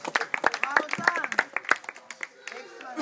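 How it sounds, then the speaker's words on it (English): Round of applause during a traditional Maori stick game: a short burst of scattered claps, with a few sharp distinct hits, mixed with talking. "Round of applause for our first one out"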